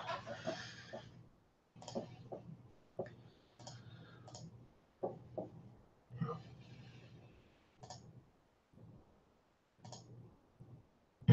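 A computer keyboard clicks in irregular bursts of quick taps separated by pauses, close to the listener. Someone talks quietly at points between the bursts.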